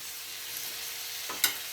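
Green chillies and tomatoes dropped into sliced onions frying in a pan for bitter gourd curry, a steady quiet sizzle with a brief clatter and splash near the end.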